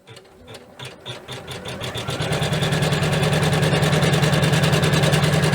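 A sewing machine stitches embroidery onto a zipper pouch, starting with a few slow needle strokes and speeding up into a loud, steady, rapid whirring hum up close.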